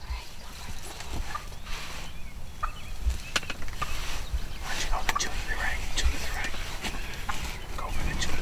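Wild turkey jakes gobble repeatedly near a hunting blind in the Michigan outdoors, sharp rattling calls breaking out in quick bursts over a soft background of rustling and hushed whispers.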